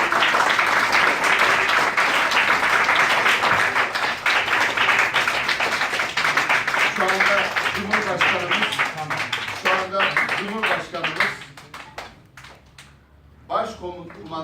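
An audience applauds at a gathering, a dense burst of clapping that thins into scattered claps and fades, with speech rising in the later part.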